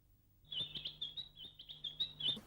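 A small bird chirps in a quick run of high tweets over about two seconds, close and fairly clear above a faint low hum, with no talk.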